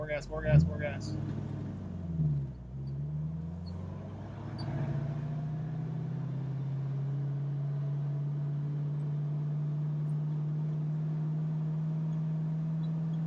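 A 1968 Mustang Fastback's engine revs briefly, dips, then holds a steady low drone at constant throttle, with a voice heard over the start.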